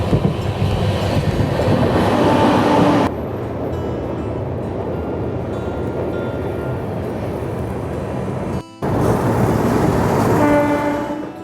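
Garib Rath Express train running from Kolkata to Guwahati, a steady loud roar and rattle of the carriages with rhythmic clatter from the rails, heard from on board and broken by a brief dropout.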